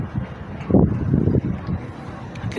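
Wind gusts buffet the microphone in low rumbling bursts, steady and close, on a construction site's steel deck, with no one speaking.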